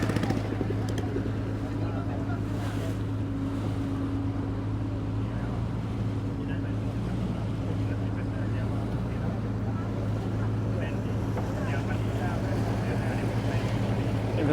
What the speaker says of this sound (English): The tour boat passed by.